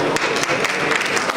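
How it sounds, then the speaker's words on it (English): Audience applause greets panelists coming onto the stage at a panel discussion on sustainable paper, a dense steady patter of many hands clapping throughout the short stretch. "Please give them a big round of applause."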